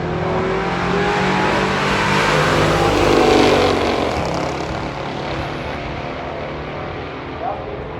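A 340 Mopar muscle car at a Pure Stock drag strip meet roars with a broad, steady engine drone that swells around the middle and eases off, with crowd chatter underneath.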